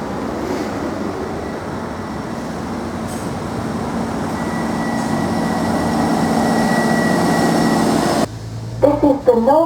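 A northern rail service to Alderley Edge pulls into a station platform with a steady, rising rumble and a long tonal whine, loud and close, before the noise cuts out near the end and voices come in.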